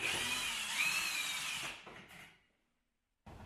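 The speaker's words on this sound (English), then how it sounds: "Now I'll take out the last screw." A cordless drill backs a screw out of a bathroom vanity light fixture, a close, high whirring spin with shifting pitch that winds down, goes silent, then a short handling noise follows.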